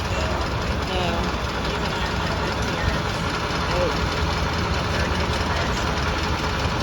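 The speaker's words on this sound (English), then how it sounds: "That engine's unique because it's a double cylinder and it's the only one that's double cylinder." A double-cylinder Frick steam traction engine runs steadily at an outdoor steam and gas engine show, a continuous low rumbling chug with a broad, even wash of noise throughout.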